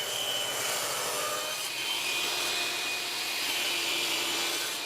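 Saw with a 1/8 inch blade cutting plexiglass for a ticket shadowbox, a steady loud rasping whine that holds level for several seconds, with no talk over it.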